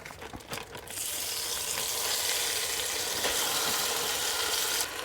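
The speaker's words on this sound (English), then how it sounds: "All right, we're sizzling. In goes the chicken." Chicken hits a hot pan and erupts into loud, steady sizzling that continues evenly after a few initial clatters.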